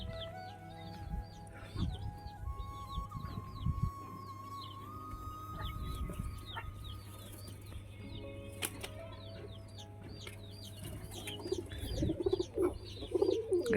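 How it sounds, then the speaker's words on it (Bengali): Domestic pigeons gathered outside their coop at a home, giving soft repeated coos with occasional wing flaps, fairly faint over steady low background hum, no talking. "আমার খোপের পায়রা যতগুলো আছে সব বাইরে এইখানেই আছে"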